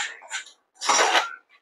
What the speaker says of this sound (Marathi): 1 टीस्पून तेलामध्ये आता हे सर्व मसाले थोडेसे भाजायचे